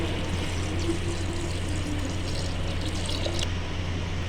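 Water poured from a vessel into a cooking pot of meat for Kabuli pulao, a steady splashing pour running continuously and close, with no talk over it.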